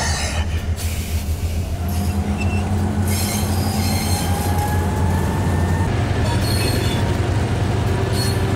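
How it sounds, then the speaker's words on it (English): A train eases away in a rail yard, its wheels squealing in long sustained tones over a steady low rumble and rolling clatter, loud and close. "It's a train yard, isn't it? There's train noises."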